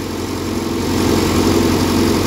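A JCB backhoe's diesel engine idles nearby with a loud, continuous low rumble and vibration that grows slightly heavier partway through. No voices are heard.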